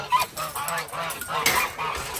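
Geese on a muddy farm honk in repeated close, loud calls, several bursts in quick succession with no talk.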